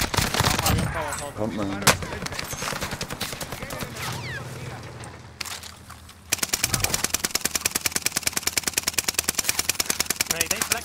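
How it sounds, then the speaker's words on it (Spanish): Heavy automatic gunfire in the shooter game Warzone, dense rapid bursts that turn into a loud, steady machine-gun rattle in the second half, with Spanish-speaking players talking over the first part. "Disparan de arriba."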